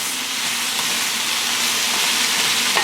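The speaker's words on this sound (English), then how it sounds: "and now we'll add the potatoes. And so we're going to let the potatoes cook" Potatoes fry in a hot pan at home, a loud, close, steady sizzle and hiss of oil running unbroken throughout.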